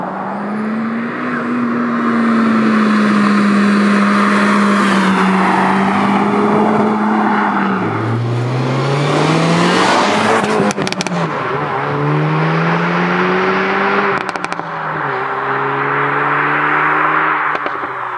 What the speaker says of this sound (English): It's got a real nice character to it, and you have the odd little crack and pop as well.